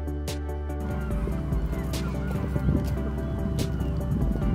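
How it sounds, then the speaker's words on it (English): A seabird colony of razorbills, black guillemots, puffins and black-legged kittiwakes on a small island fills the air with a dense, continuous chorus of overlapping calls, with a few louder nearby cries standing out. "The island is home to thousands of seabirds, including razorbill, black guillemot, and black-legged kittiwakes."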